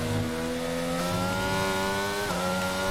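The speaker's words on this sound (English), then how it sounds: "The engine doesn't want to give me more power." F1 car engine in the F1 22 racing game, a steady loud high-pitched whine holding near-constant pitch with a brief shift near the end, continuous and close with no talk.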